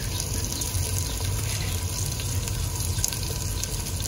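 Onion and garlic fry in a pan for chicken biryani, giving a steady, close sizzle and hiss that carries on without a break and with no voices.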